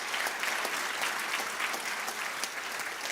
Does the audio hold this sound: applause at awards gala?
yes